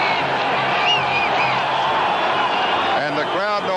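Stadium crowd at a 1982 Raiders at Chiefs football game, a steady distant roar from a large attendance with brief whoops and cheers rising near the end.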